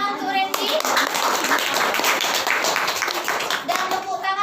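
A classroom of children claps for a classmate during a micro-teaching lesson, a dense burst of applause that starts sharply after a brief moment of voices and holds steady before tapering as kids begin talking again.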